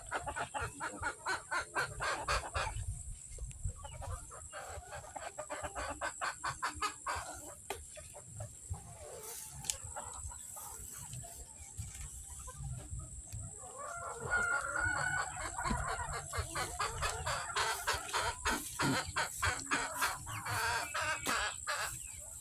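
Chickens cluck busily around a farmyard feeding while a rooster crows several times, steady and fairly close, with no talk over the birds.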